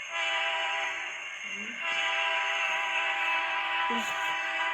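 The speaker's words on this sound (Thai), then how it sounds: "มาฟังเสียงรถไฟด้วย" A loud train with two locomotives rumbles past close by, a steady roar with a sustained horn tone, and brief voices break in now and then.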